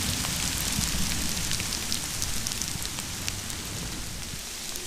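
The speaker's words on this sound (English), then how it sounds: "Hailstones are coming down thick and fast." Hailstones fall thick and fast in woodland during a passing shower, a dense, steady patter and hiss on leaves and ground. The sound is close and continuous, with no voices.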